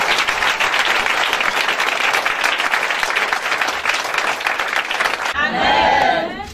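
A congregation at a church service applauds and cheers for the Lord, dense continuous clapping with shouts rising from the crowd, ending in a brief swell of cheering voices.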